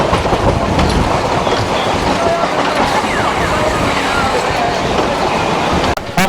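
Train at a station platform on the Beldanga to Lalgola route, with a loud, close continuous rumble of wheels and carriages, rhythmic clatter and faint squeals, cutting out abruptly near the end.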